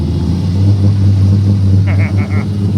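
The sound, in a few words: third gen Camaro engine during test drive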